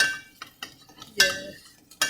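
A metal spoon scrapes and clinks against a pot as lamb browns for a stew, with a few sharp clinks and one longer scrape, close and clear.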